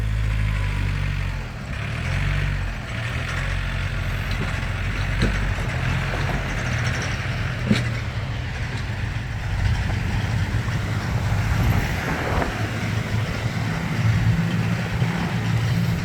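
A Yanmar EF514T tractor engine runs while being driven, a low steady diesel rumble with a throbbing lower register and occasional clanks, moderately close and continuous with no talk.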